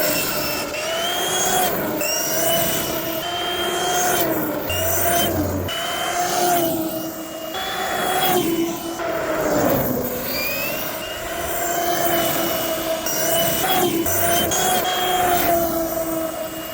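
A 6S RC car with a Hobbywing 8BL150 G2 brushless motor and ESC makes speed runs up and down a street, a loud sustained motor whine that rises and falls with each pass alongside gritty tire and road noise.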